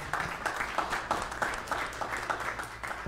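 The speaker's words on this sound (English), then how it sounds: "So give a round of applause to that" Church congregation applauding during a traditional Sunday service, a steady sustained clapping with rhythmic bursts throughout, moderately loud and filling the room.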